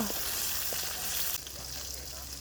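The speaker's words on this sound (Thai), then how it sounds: "นี่ครับทอดปลา" Fish fries in hot oil over a wood fire outdoors, giving a close, steady crackling sizzle with small pops throughout.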